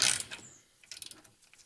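Ratchet snugging the rear differential fill plug on a 2006 Pontiac GTO, giving a short sequence of close, crisp clicking turns with a brief pause between them.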